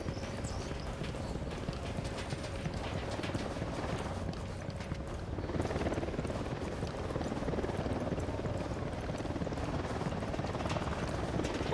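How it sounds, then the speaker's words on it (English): A helicopter's rapid, steady rotor chop drones throughout in the video game Tom Clancy's Ghost Recon Wildlands, growing slightly fuller partway through as the aircraft draws closer, with no speech over it. "We got a chopper coming in."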